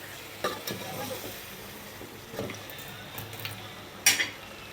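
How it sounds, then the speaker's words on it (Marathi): Mutton being stirred and mixed in a pot for a spicy village-style rassa, with a few scattered scraping clinks of a spoon against the vessel over a soft sizzle, ending in one sharper metallic knock. "आणि हे मटण आपण मिक्स करून घ्यायचं आहे व्यवस्थित"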